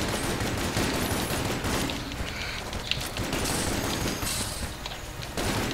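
Rapid video game gunfire from a shooter with a frost weapon and flare gun, a continuous dense fusillade of overlapping shots and booms, loud and close throughout with only brief dips in intensity.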